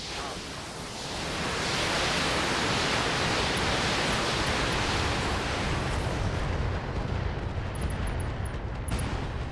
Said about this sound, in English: Yep, ammo explosion.